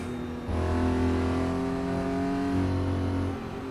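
Close, loud engine note from a 200-horsepower 1967 Porsche 911R in Assetto Corsa, surging into a hard rev, holding steady, then briefly dropping and climbing again.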